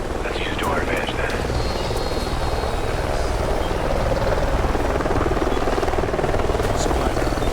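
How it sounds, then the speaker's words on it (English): Helicopter in the video game Call of Duty: Ghosts, a continuous rotor drone and buzz from nearby in a canyon, steady and fairly loud, with game voices talking over it. "Sounds like a chopper's up ahead of us. I hear it."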